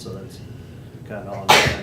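One sharp human sneeze bursts out loudly at the end of a public county commission meeting, right after someone speaks calmly.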